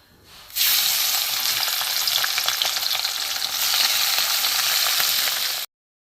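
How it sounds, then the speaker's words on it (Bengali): Small mourola fish hit hot oil and fry with a loud, steady, close-up sizzle that starts abruptly, crackles evenly for about five seconds and then cuts off. "তেল গরম হয়ে গেছে মৌরলা মাছগুলো আমি ভেজে নেবো"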